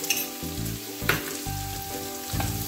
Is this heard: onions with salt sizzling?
yes